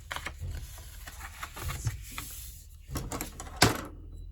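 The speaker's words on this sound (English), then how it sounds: "Sorry about the banging you hear outside." Recycling and garbage collection outside on pickup day: irregular muffled clunks and knocks, with one sharper bang near the end.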